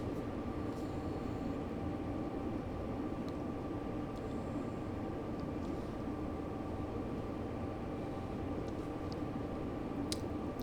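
A train in Train Sim World 4 rolls along and slows as its brakes work down to the rear car, giving a steady low rumble with a faint tonal hum and occasional light clicks throughout.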